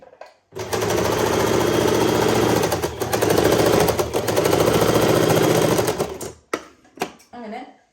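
A sewing machine stitches along the edge of a churidar seam, a loud, steady mechanical whirr running for about six seconds before stopping, followed by a few short clicks.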